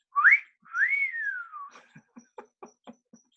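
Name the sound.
person imitating a whistle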